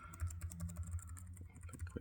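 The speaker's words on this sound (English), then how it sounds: "Like when you type R, it goes R and 5." Keys are typed in a quick irregular patter on an HP Probook 450 G3 laptop keyboard with a fault that registers extra keys, close-up and quiet.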